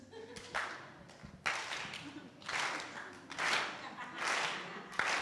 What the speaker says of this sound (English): I like the slow clap idea.